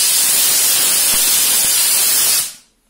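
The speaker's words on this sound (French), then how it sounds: "Donc je reprends mon pistolet, je purge, je renvoie à la vapeur." A Vapodil steam cleaner gun blasts steam onto a microwave door in one loud, steady hiss that cuts off abruptly near the end.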